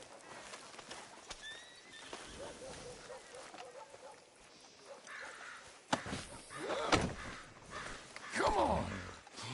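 In the video game Red Dead Redemption 2, a horse whinnies and snorts and its hooves clop and thud in irregular steps at close range.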